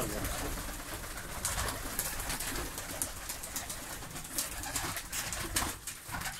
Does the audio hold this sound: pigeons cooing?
yes